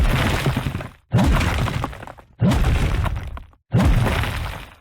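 A muffled smashing, shattering sound from a Minecraft music disc repeats in four heavy bursts, each separated by a brief drop to silence.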